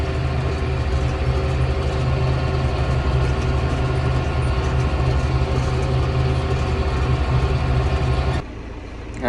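A farm tractor drives down the road at nearly 26 miles an hour, its heavy engine holding a steady, loud, low drone that drops off abruptly near the end.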